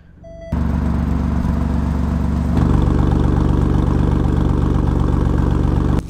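An Alfa Romeo Giulia Quadrifoglio engine idles with a deep, steady rumble, then in race mode the exhaust flaps open and the note steps up slightly louder, deeper and fuller partway through and holds there.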